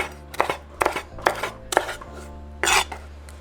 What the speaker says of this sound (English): Just cut them in little strips like that, and then cut them